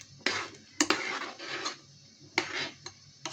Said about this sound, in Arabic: نقلب تقليبه حلوه كده